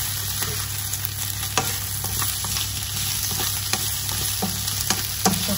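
Ginger puree sizzles steadily in a pan, broken by occasional clicks and scrapes of a utensil stirring it, close by with no voices.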